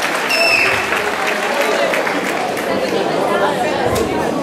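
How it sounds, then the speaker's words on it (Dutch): Applause from an audience at a talent show, a steady dense clatter of clapping running throughout, with crowd chatter mixed underneath. "Graag een applaus voor Anna Diawakawaka."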